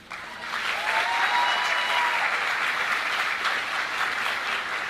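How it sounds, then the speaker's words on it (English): Audience at a Linden High School commencement ceremony applauding students, a steady sustained round of clapping from a large crowd in a hall. "Students, you may remain seated as we applaud each organization"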